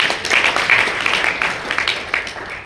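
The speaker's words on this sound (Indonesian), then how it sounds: "Kasih tepuk tangan." A congregation in church gives a short burst of close, loud clapping at an Indonesian-language sermon, many hands striking together in a dense, even wash.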